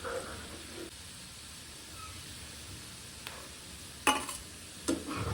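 Sliced onions fry in hot oil for egg dum biryani, cooked until brownish and crisp. A steady, soft sizzle runs throughout, with a few sharp clinks and scrapes near the end and no talking.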